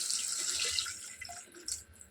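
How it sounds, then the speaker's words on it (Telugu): Water runs in a steady hissing stream into a cooking pot of softened tomatoes, a pouring splash that continues for a couple of seconds with slight gurgles near the end. "one and two two glass of water"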